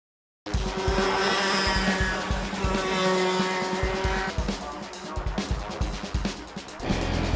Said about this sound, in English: Today we're at the Picton Kart Track in Picton, New South Wales, racing the final round of the state titles.